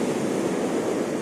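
Sea waves wash onto the shore at Yalta on an overcast autumn day, a steady full rushing surf with no voices, close and constant throughout.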